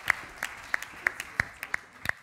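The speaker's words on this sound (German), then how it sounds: "Dann nochmal einen großen Applaus für die Werkstatt Ungleichheit und Bildungsgerechtigkeit." Scattered claps from an audience at a youth politics event, marking the end of a workshop group's presentation on inequality and educational justice. Sparse, separate hand claps ring out at a steady spaced rhythm, moderately near, with no talk over them.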